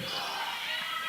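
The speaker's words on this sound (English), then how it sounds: "You can hear the crowd in the background." A large crowd of fans in a gym at a 2015 NACA college basketball game between Faith Baptist and Columbus Christian, a dense roar of cheering heard briefly behind the action.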